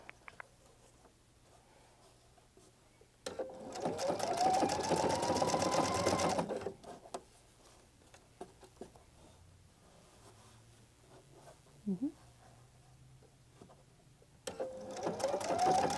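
A Pfaff Creative Icon sewing machine stitching a braid whirs in two close bursts, one of about three seconds and a shorter one at the end, with quiet handling clicks in between.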